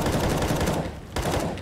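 Rapid gunfire in the video game CS:GO rattles out in a fast automatic burst, moderately quiet, pausing briefly before another short burst.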